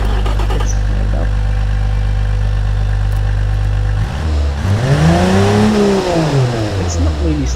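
A Chevrolet 250 CID inline six engine runs loud and close, holding a steady idle before rising and falling through a revving sweep.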